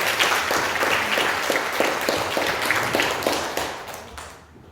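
A church congregation applauding at a Sunday service, many hands clapping together in a brisk, rhythmic patter that stays loud and then fades out toward the end.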